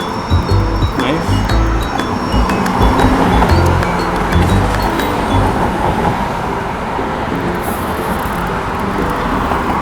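Trains crossing a river bridge in Brisbane's South Bank, one passing and another coming from the opposite direction, a steady loud rumble with clatter and faint high squeals under constant city traffic noise.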